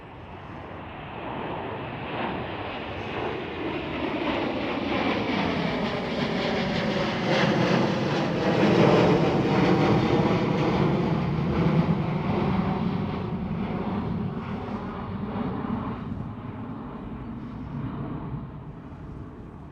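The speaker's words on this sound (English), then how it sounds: "And yet again, Delta Airlines A330. This time it's a 300. Hear the difference in engine noise." A Delta Airlines Airbus A330-300 passes at Schiphol, its jet engines building to a loud, sustained roar with a sweeping whine that peaks midway and then slowly fades as it moves off.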